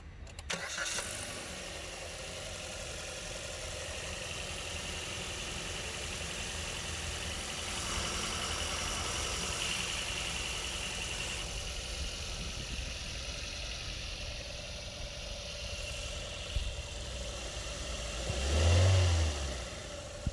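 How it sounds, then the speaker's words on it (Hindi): A 2020 Maruti Suzuki Vitara Brezza BS6 with the K15B petrol engine cranks and fires up, then settles into a steady, close idle, with a short, throaty rev swelling near the end. "ये थी K15B पेट्रोल इंजन की साउंड, जो अब आता है विटारा ब्रेजा के साथ भी"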